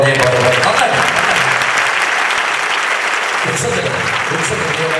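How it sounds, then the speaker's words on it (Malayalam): A church congregation claps in praise during a talk by a Catholic priest, a loud, dense, sustained burst of many hands that fills the room without pause, with a brief voice rising over it near the end. "കൈയടിച്ച് കർത്താവിന് നന്ദി പറഞ്ഞേ."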